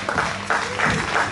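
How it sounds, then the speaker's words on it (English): Crowd applause at an outdoor music and colour festival, a dense bursting clatter of clapping at moderate volume that swells in uneven waves over a little more than a second. "Round of applause,"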